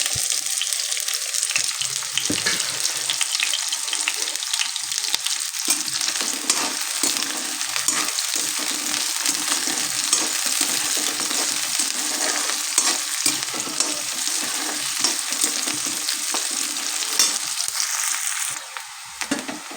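Sliced onions and green chillies sizzle in hot oil in a pan, a loud, dense, continuous frying hiss with crackling bursts that holds steady for the whole stretch, close up with no talking.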